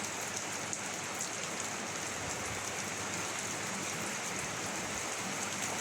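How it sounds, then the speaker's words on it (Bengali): Heavy rain pours down steadily in a dense, even roar of drops hitting surfaces, continuous and close with no voices. "আল্লাহ, অনেক বৃষ্টি পড়তেছে, অনেক অনেক বৃষ্টি।"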